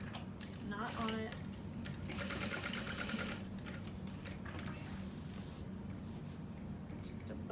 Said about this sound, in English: And we're gonna stitch above the slit, not on it, just right above it, not on it.